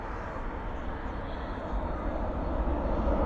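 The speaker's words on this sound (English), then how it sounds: "it is racing here to the cargo facility. This is about as close as an aircraft will get to us here at Founders Plaza." A cargo aircraft taxiing at DFW airport toward the cargo facility sends out a steady, broad jet-engine roar that swells slightly as it nears, heard from an outdoor viewing area.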